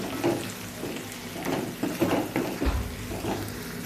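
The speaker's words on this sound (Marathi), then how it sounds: "टॅमॅटो लवकर शिजतो त्यामुळे एकत्र हलवून घ्यायचं आहे सगळं मिक्स करून घ्यायचं आहे" Tomatoes with a pinch of salt fry in a pan for a sprouted moth bean dish, a steady sizzle broken by the soft scrape and clatter of a spoon stirring.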